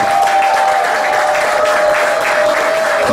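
A concert crowd at a rock show gives a band loud, dense, sustained applause, along with a steady whistle or feedback tone that holds through it.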